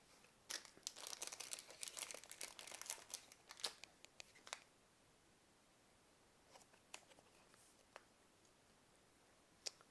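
Crinkling, tearing plastic of a Pokémon Sword and Shield Rebel Clash booster pack wrapper, a busy burst of rips and crackles in the first few seconds, then sparse faint clicks and rustles.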